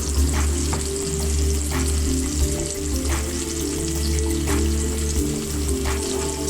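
A steak fries in a hot pan, giving a loud, close, continuous sizzle with occasional bursts of spatter over a steady low hum, and nobody speaks.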